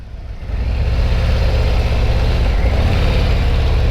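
2026 Harley-Davidson Street Glide Limited motorcycle engine idling then pulling away, a loud, close, continuous low rumble that builds after a quieter first half second.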